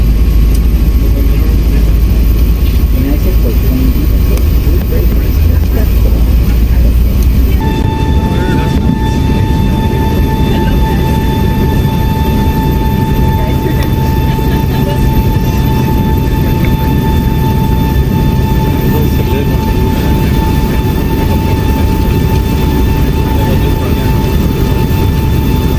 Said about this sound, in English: I was eagerly waiting for the sound of the Rolls-Royce engines